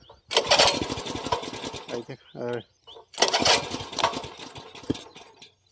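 A small petrol mini tiller engine is started with a pull cord and sputters in loud, rough bursts with brief pauses between them, while someone speaks briefly in between.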